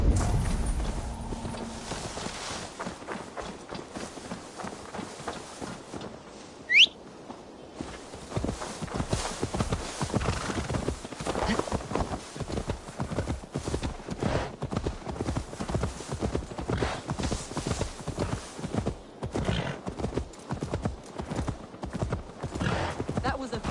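Horse hooves clip-clopping in Assassin's Creed Valhalla, a steady rhythmic run of hoof beats that starts after a quiet opening and continues at a walking pace, close and clear, with a brief whinny-like sound early on.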